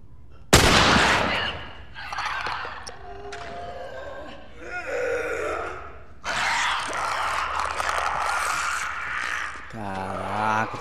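Gunfire in the video game The Last of Us: a sharp, loud shot opens, followed by bursts of game combat noise and effects, with someone talking excitedly over the action.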